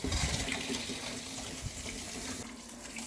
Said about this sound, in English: This part of the sprayer is going through okay. Let's see if it's leaking.